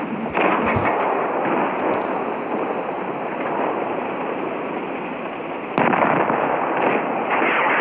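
In the World of Tanks Blitz video game, a tank cannon fires with a loud, sudden burst over a steady roar of battle noise, close and heavy, with no talk.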